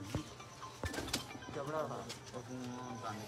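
Chapra breed house pigeons cooing, soft throaty coos repeated several times at close range, with people talking faintly around them.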